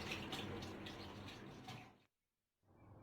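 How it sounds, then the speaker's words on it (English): Cooked watermelon water pours through a sieve as a continuous splashing trickle for about two seconds, then stops briefly before a faint dripping resumes, close and quiet. "I have to drain the water from it. So I'm just gonna use this sieve"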